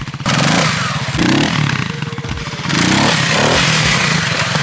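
A motorcycle revving hard uphill as a learner tries a wheelie, with loud, rough, pulsing engine bursts that swell and dip as the throttle is opened and eased, heard close up.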